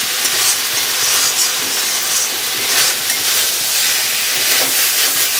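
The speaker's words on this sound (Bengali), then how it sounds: "জল দিয়ে দিই" Water poured into a hot pan of stuck spices for a tilapia and brinjal fish curry sets off loud, steady hissing steam that holds for several seconds with no talk over it.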